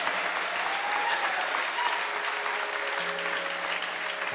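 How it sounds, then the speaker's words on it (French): A church congregation claps in sustained, dense applause that stays steady and fairly close the whole time, with a faint voice and tonal hum underneath. "Acclamons pour la foi du frère William."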